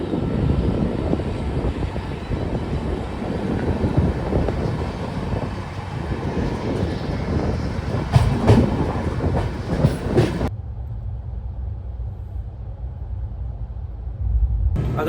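Hubli–Nizamuddin Express 20657 passenger train on its first commercial run, rumbling steadily with wheel clatter and bursts of rattling, loud and close throughout, the rumble turning muffled and darker in the final few seconds.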